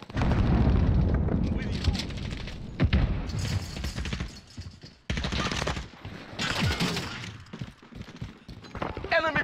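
Gunfire in Modern Warfare multiplayer, with bursts of automatic weapons and heavier booming blasts crowding the opening seconds, then scattered shots further on, loud and dense with game voices calling out during the fight.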